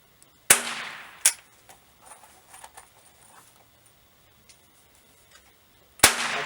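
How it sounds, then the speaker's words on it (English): Percussion caps fired on an 1816 Springfield musket snap out as three sharp, loud cracks: two close together, then a third after a long pause, with faint clicks and handling noises in between. "Then you want to fire off a few caps."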